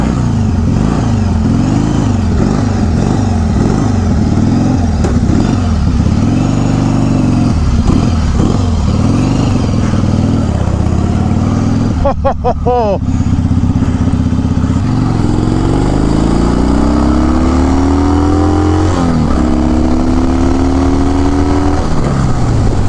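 A 1974 Harley-Davidson Sportster motorcycle runs on its factory exhaust, loud and close, with repeated throttle blips rising and falling in pitch, then a steadier rev climbing toward the end.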